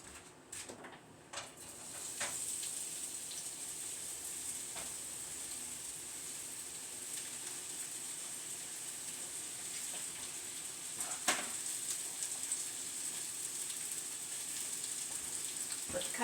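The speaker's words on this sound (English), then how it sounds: "I'm going to go put them in the skillet that I've got on the stove" Onions sizzle in a skillet on the stove, a steady soft hiss that runs the whole time, with a few faint clicks and knocks mixed in.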